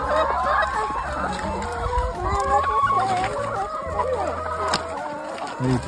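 Flock of chickens clucking busily while eating leaves tossed to them on a farm, many overlapping close clucks and squawks in a lively, continuous chatter, with faint talk underneath.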